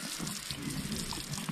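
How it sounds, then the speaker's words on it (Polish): Water from a hose pours steadily over a horse at a stable, a continuous close splashing gush that runs without a break and without voices. "że lejemy go wodą, nie?"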